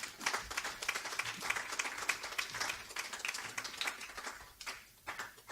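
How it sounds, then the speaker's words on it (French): A church congregation bursts into steady, dense applause that carries on for several seconds, with a few scattered voices mixed in. "Acclamons pour la parole du Seigneur."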